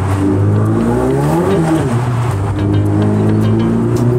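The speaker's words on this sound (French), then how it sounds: "Oh, le bruit de turbo." A turbocharged sports car engine revs loudly and continuously up close, its rising and falling harmonic drone steady throughout with a brief dip mid-rev, and turbo whoosh blended into the roar.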